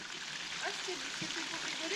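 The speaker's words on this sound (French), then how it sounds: "C'est un filet d'eau qui est tenu par des tuiles, qui ruisselle entre des tuiles." A thin trickle of water runs between roof tiles on São Miguel in the Azores, a steady soft splashing hiss heard continuously under people talking.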